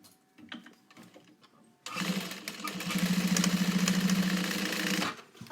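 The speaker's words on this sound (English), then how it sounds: "We're gonna sew over it." A sewing machine stitching a Devon pouch, a faint rustle of handling and then a close, rapid mechanical whirr of the needle running steadily for about three seconds before stopping.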